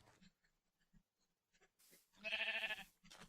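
A Minecraft sheep gives a clear, loud bleat midway, amid quiet game sounds like soft footsteps and clicks, with a shorter bleat-like call near the end.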